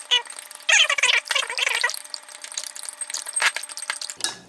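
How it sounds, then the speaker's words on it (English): A spoon clinks and scrapes against a glass while stirring a protein shake, producing a run of bright, close metallic chinks and taps at an irregular rhythm, with no voice. "We're gonna stir that together."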